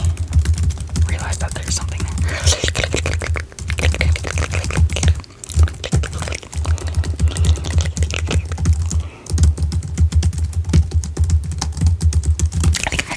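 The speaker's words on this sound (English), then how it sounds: "In the midst of all of my random, keyboard smashes" A computer keyboard is typed on and smashed at random in a close, intimate recording, with rapid uneven bursts of key clatter and brief pauses, under a faint soft voice.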